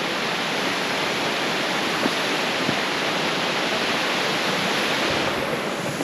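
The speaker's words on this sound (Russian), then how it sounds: "Вот такой водопад." A waterfall in Kyrgyzstan pours with a dense, constant hiss and rush, loud and close, holding steady for the whole stretch with no voices.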